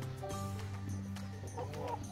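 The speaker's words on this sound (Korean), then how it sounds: "지금 보시는 농장은 싸움닭을 기르는 농장입니다." Fighting roosters at a gamecock farm in the Philippines, with clucking and crowing bird calls over a steady hum of farm machinery, close and continuous.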